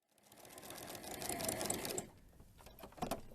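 A sewing machine stitches a gathered baby dirndl skirt, its needle mechanism whirring in a rapid, steady mechanical chatter that rises, runs for a couple of seconds, then slows and stops with a few clicks, fairly quiet and close.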